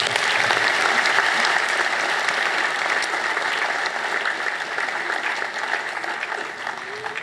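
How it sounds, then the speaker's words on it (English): An audience claps for a student receiving a commendation at a 2024 school prize giving, dense and even applause filling the room at steady volume and tapering slightly toward the end. "Give her a clap."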